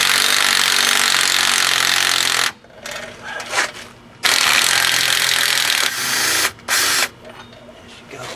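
A power tool whines loudly on the wheel hub of a 2001 Chevy Cavalier during a wheel bearing replacement, in long continuous bursts with short pauses, close up and with no talk.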